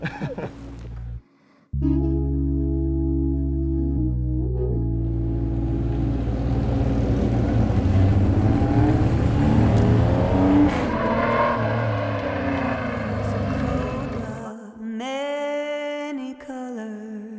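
Porsche 911 Carrera RS cars on a race circuit rev and accelerate hard, the engine note climbing through gears loud and close, with a brief cut and a shift near the end.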